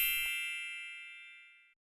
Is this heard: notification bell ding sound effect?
yes